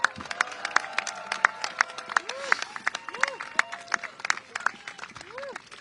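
Scattered, uneven clapping from a crowd gathered at a peace vigil held by the Asian American Federation in New York, with voices and calls rising over the sharp, sparse claps throughout.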